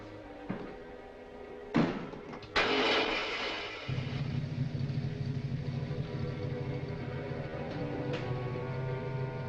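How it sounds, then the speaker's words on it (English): A motor cranks with a couple of sharp knocks, then settles into a steady low mechanical drone that runs on without pause. "Start the motor."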